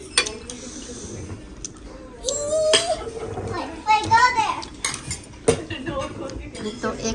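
Spoon and dishes clinking during a meal at a Chinese restaurant, scattered light metallic taps and scrapes between bursts of children's and adult talk.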